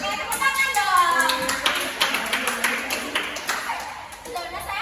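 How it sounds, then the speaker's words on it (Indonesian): A group of children clap their hands in a classroom, a run of uneven, overlapping claps that stays loud and steady for several seconds, with voices mixed in. "Sekarang, tepuk tangan dong."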